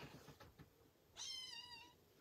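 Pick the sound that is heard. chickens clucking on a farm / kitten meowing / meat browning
kitten meowing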